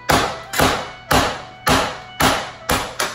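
A large, hard lobster claw being smashed to crack its shell: seven loud, evenly spaced heavy thuds about half a second apart, each with a short ringing decay, close to the listener.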